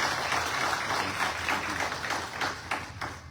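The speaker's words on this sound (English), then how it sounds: "Let's give him a big round of applause." Crowd applause at a Hindu temple gathering in a Houston mandir, a steady wash of many hands clapping at moderate loudness, sustained through the moment and fading slightly toward the end.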